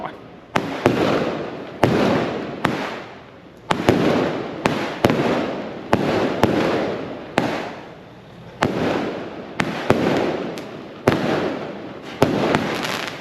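Repeated firework blasts at an outdoor ceremony, a steady run of sharp cracks about every second, each bang trailing off in a hissing decay, loud and without talk.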